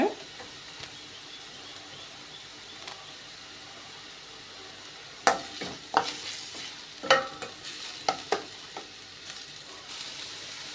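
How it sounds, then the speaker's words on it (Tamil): Onions sautéing in an open pan until browning, with curry leaves and chillies among them, give a steady soft sizzle, and a spoon stirs and scrapes the pan in several sharp bursts during the second half. "கொஞ்சம் ப்ரௌனாக வர வரைக்கும் வதக்கி விட்டுக்கோங்க"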